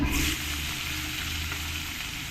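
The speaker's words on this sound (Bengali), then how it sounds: "পেঁয়াজগুলোকে ভালো করে লাল লাল করে ভেজে নিতে হবে" Chopped onions hit hot oil with whole spices like bay leaf and dried red chilli, a loud burst of sizzling that settles into a steady, even crackle close by.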